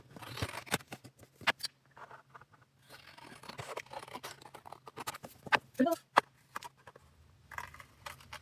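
Scissors cut through paper or packaging in a series of close, sharp snips and crinkling tears in an uneven rhythm, with quiet gaps between cuts and a soft low hum underneath.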